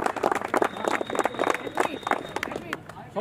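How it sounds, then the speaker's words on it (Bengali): A group clapping at a cricket tournament gathering, with brisk, uneven rapid claps running throughout and voices mixed in. "জোরে হাততালি।"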